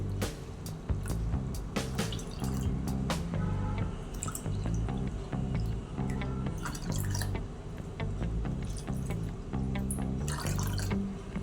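Water pouring and splashing steadily into a container of semolina, with irregular drips and clinks, close and fairly loud with no talking.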